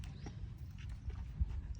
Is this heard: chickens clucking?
no